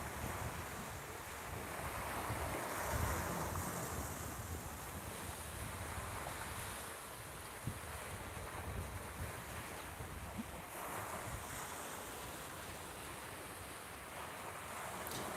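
Ocean waves wash onto a beach in a steady, continuous roar of surf, with wind buffeting the microphone throughout and no speech.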